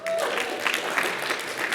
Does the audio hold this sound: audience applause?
yes